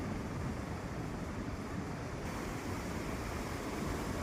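Floodwater of the Ghod river rushes in a dense, continuous roar that holds at an even level from start to end, with no voices.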